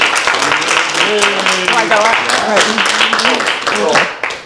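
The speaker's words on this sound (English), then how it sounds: "So give a round of applause for Hillary" An audience at a campus evening lecture claps for the guest speaker, busy applause mixed with cheers and voices calling out, tapering off at the end.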